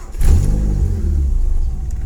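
A 1992 Ford Laser Champ 1.8 liftback cranks on its starter and catches, the engine settling into a loud, steady low idle close by with no talk.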